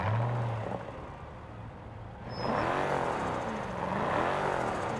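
A turbocharged AMG car engine in the Test Drive Unlimited Solar Crown racing game idles with a low rumble, then revs up in repeated rising and falling surges.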